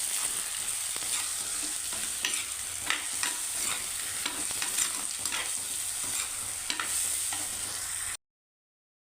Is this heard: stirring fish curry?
yes